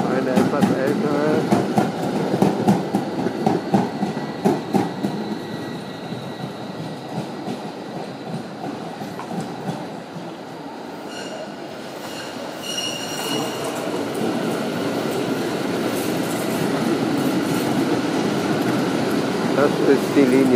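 An older Bielefeld Stadtbahn tram on line 1 toward Senne rolls past with a rising and fading rumble, rattling wheels and a brief high squeal as it goes by.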